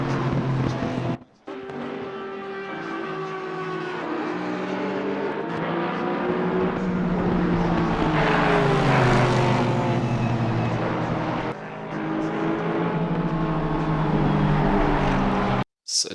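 Close GT race cars in Assetto Corsa Competizione battle for the lead at Suzuka, with a sustained loud engine whine rising and falling through gear changes and two brief cuts in the sound.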